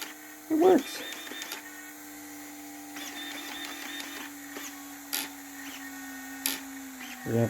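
A Traxxas X Maxx RC car with upgraded steering has its servo whining and straining at the ends of travel, a faint steady buzz with short louder bursts as the wheels turn, while someone talks nearby.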